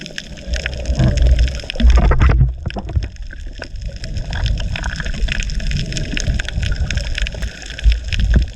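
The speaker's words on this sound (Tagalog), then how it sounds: "Kusog na yung uwan." Heavy rain pounding down at sea at night during a dive in bad weather, a loud continuous roar of water with broadband splashing and a few sharper knocks, no talk.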